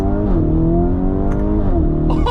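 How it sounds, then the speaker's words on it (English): A 2023 Lamborghini Urus S with a retuned exhaust revs hard from inside the cabin, a loud, rich engine note climbing and shifting through gears in one continuous pull. "We got that retuned exhaust, but it sounds like leagues better than the original Lamborghini Urus"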